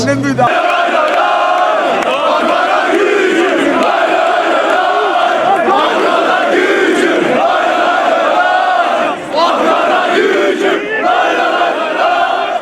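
Ankaragücü football supporters in a stadium chant loudly and continuously, a dense, massed roar of voices with rhythmic swells that holds for the whole stretch, close and overwhelming.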